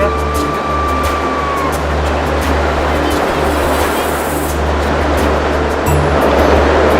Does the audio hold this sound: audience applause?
no